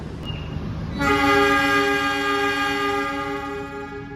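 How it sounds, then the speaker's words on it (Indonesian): Jayakarta passenger train at Mojokerto station sounding a loud, sustained horn blast that starts about a second in and holds steady to the end over rumbling station noise as the train departs. "kereta api Jayakarta diberangkatkan kembali dari stasiun Mojokerto"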